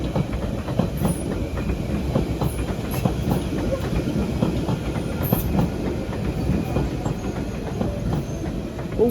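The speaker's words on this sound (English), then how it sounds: "So we've got a 92 stock pulling in." Class 92 electric locomotive pulling a train into a London station, with a continuous rumble of wheels and rhythmic clickety-clack over rail joints, close and loud, with occasional faint squeals and hiss.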